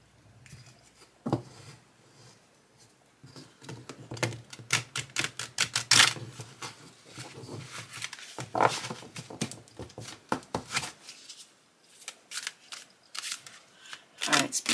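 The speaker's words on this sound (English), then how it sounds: "let me shuffle them a little bit" Tarot oracle cards with shiny borders being shuffled by hand, a steady run of close, crisp riffling taps and slaps over about fifteen seconds, with brief pauses between bursts.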